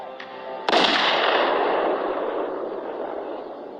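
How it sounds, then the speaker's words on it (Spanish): A single sharp revolver gunshot cracks out loudly, followed by a long, echoing tail that slowly fades away. "Apuntó y disparó."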